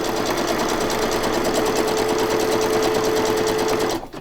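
A sewing machine stitching a pocket journal's binding runs in a fast, even mechanical chatter for about four seconds, close and loud, then stops abruptly.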